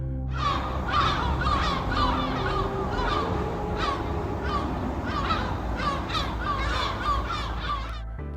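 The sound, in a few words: birds calling at the waterline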